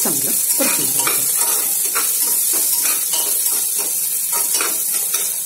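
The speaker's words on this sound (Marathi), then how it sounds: "आणि ह्या कांद्याला चांगलं परतून घ्यायचं" Sliced onion frying in ghee in a pan on low flame, a steady close sizzle broken by repeated scraping stirs of a spoon against the pan.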